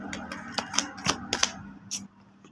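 Tarot cards shuffled and laid down, a quick close run of crisp flicks and taps followed by a short pause.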